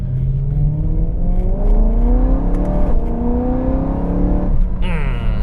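A BMW M3 engine revs hard, its pitch climbing steadily through the gears, loud and close, with a brief shift near the end.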